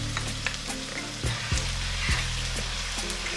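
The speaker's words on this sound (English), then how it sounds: "I'm adding my ginger garlic that I've blended it." Blended ginger and garlic hit a hot pan for a Ghanaian cabbage stew, giving a steady close sizzle with occasional stirring scrapes and brief spatter bursts throughout, no talking.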